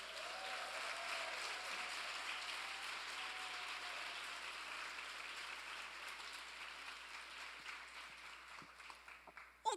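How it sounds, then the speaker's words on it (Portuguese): A congregation at a church service gives a loud round of applause, heard as a faint, distant, continuous wash of clapping that thins toward the end. "dê um forte aplauso a Ele."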